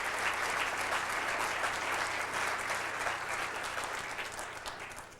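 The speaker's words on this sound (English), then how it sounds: "Let's give him another round of applause as well." Audience at an anniversary event applauding Senator Gregg, a steady wash of many hands clapping that fades slightly near the end, heard alone without talk.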